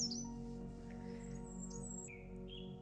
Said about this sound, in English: the birds are very happy